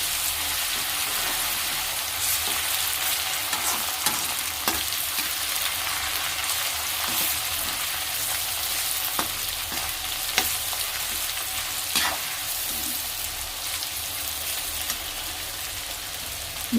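Potato and fenugreek leaf sabji sizzles steadily in a pan, with occasional soft scraping and tapping from stirring throughout, close and continuous without any talking.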